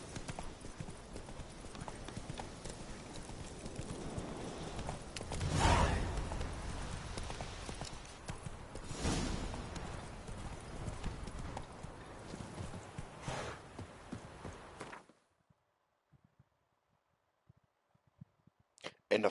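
Hooves of Roach, the horse in the video game The Witcher 3, clip-clop in a steady galloping rhythm with some game sounds for about fifteen seconds, then stop, leaving near silence with a few faint ticks.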